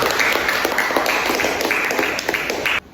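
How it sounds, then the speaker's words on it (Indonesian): Classroom applause from a group of students rewarding a correct answer, a dense, steady patter of many hands clapping for nearly three seconds before cutting off abruptly. "Tepuk tangan lagi anak-anak."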